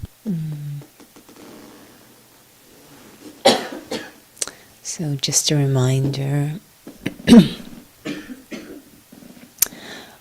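A few throaty coughs and throat clearing mixed between stretches of a person talking during a recorded interview, close to the microphone.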